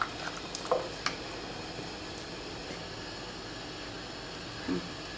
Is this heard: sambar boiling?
yes